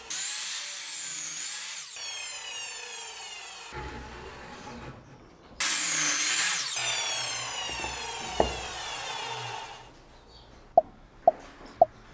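Steady rasping strokes of a hand saw cutting through wooden workbench cross members, pausing midway, then resuming, followed by a few sharp knocks near the end.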